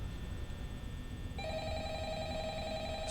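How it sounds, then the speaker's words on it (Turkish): A telephone rings in a tense Five Nights at Freddy's-style horror video game set in a security office. Faint background hum gives way to a sharp, sustained electronic ring that starts partway through and continues to the end. "Telefon çalıyor bu arada."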